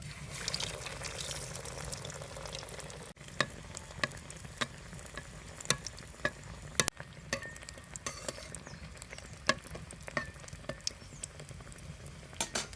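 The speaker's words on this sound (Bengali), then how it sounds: "তেল গরম হয়ে গেছে, এবার তেলে দিয়ে ভেজে নেবো" Fish cutlets fry in hot oil, a quiet steady sizzle broken by frequent sharp pops and crackles, with no speech.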